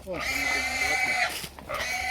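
Pigs grunt and squeal loudly up close while a voice talks underneath the harsh animal noise.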